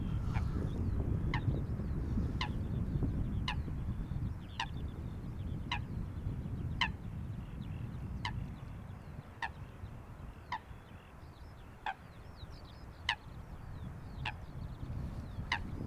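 Ducks near an airport give a steady series of short, sharp calls, about one per second, fairly faint over continuous low outdoor rumble.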